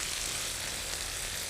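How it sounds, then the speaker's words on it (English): Vegetables sautéing with tomato paste in a pot give a steady, gentle sizzle and frying hiss, close and even throughout with no talk. "Now we saute it again with tomato paste."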